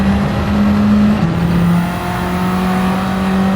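A race car engine in Gran Turismo 7 drones loud and close at high revs, and its pitch drops with a gear shift into third on the test layout of Alsace, then holds a steady tone.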